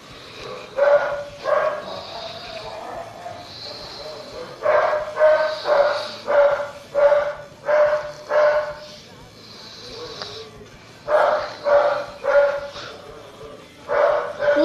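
A dog in a mobile Naruto game barks repeatedly in uneven bursts, sometimes in quick pairs or triplets, close and fairly loud, with brief pauses between volleys.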